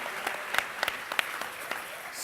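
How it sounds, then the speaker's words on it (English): A small audience at a retail panel discussion gives faint, scattered applause, individual claps popping irregularly over a quiet room. "We got some applause"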